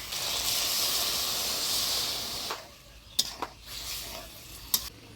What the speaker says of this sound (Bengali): মশলা দিয়ে ভিন্ডিটা ভালোভাবে কষিয়ে নিলাম, এবার টক দই দিয়ে দেবো।